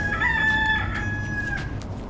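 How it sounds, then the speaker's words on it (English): A rooster crows once in a long drawn-out call, a little distant, over a low rumbling background. "Got the rooster behind me."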